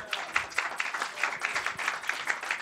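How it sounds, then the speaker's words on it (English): An audience applauds after a business innovation panel, many hands clapping in a steady, moderately loud patter with no voices over it. "Let's give them another round of applause."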